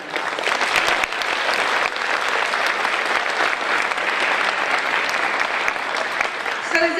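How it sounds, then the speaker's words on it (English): An audience applauds the Joplin Middle School bands at a school concert, a loud, sustained round of clapping with a few sharper claps standing out, continuing evenly before easing slightly at the end. "So let's give all of the Joplin Middle School bands a round of applause."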